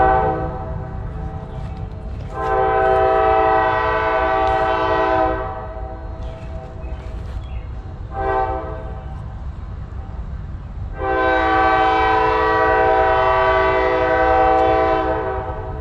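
A train rolls past with a steady rumble, sounding two long, loud horn blasts separated by a quieter stretch, the second lasting several seconds, with no talking.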